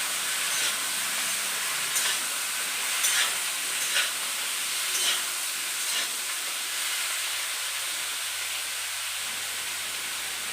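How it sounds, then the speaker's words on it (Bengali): Green banana pieces stirred in a hot pan for a vegetarian dish, with a steady sizzling hiss and faint, intermittent scraping taps from the spoon. "দিয়ে দেবো, নাড়াচাড়া করতে থাকবো।"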